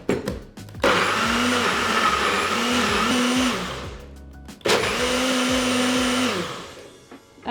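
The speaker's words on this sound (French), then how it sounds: "Et on mixe le tout." A kitchen blender purees gazpacho in two loud whirring bursts, the motor shifting in pitch as the contents churn, with a short pause between runs.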